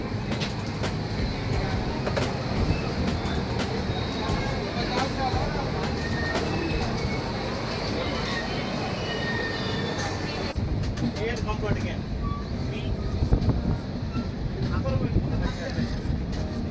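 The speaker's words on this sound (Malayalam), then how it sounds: "ഇതൊരു വലിയൊരു റെയിൽവേ സ്റ്റേഷനാണ് ശരിക്കും ജനമാണ് ഇവിടെ ഉള്ളത്" Constant dense rumble of busy Vadodara railway station with a train, crowd chatter and echoing voices mixed into a steady roar.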